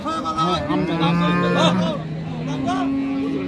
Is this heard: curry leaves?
no